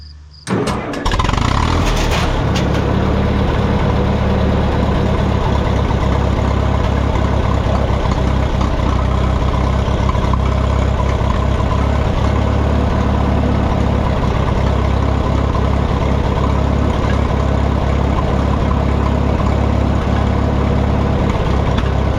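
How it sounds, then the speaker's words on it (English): An old tractor engine starts cold without choke and settles into a loud, steady, close idle, with a deep even rumble that runs unbroken and alone throughout. "Usually this tractor will start up without any choke as well."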